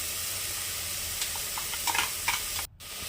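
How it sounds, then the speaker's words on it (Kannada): Spices frying in a pan for a farm-egg chicken curry give a steady, close sizzle with light scraping stirs, briefly cutting out near the end before the hiss resumes. "ಹಸಿ ವಾಸನೆ ಹೋಗೋವರೆಗೂ ಫ್ರೈ ಮಾಡ್ಕೊಳ್ಳಿ"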